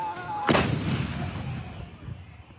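Artillery guns fire in Pakistan: one sudden, loud blast followed by a long, rumbling roll that slowly fades.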